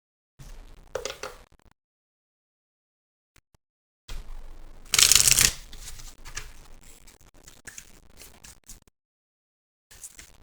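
A deck of cards is handled in short bursts of soft shuffling and riffling, with one loud, crisp riffle in the middle and quieter card-handling afterward, close by with no talk.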